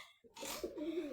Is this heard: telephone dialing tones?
no